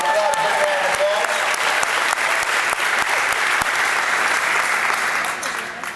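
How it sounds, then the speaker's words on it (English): A crowd at a Linamar plant in Asheville gives Congressman Mel Watt a loud, sustained round of applause, with a brief trace of a voice at the start and clapping easing slightly near the end. "So give Congressman Watt a big round of applause."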